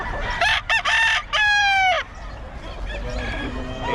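A pumpkin sweater gamefowl rooster crows loudly and close, a stuttering full crow followed by a softer partial call, with faint background sounds around it.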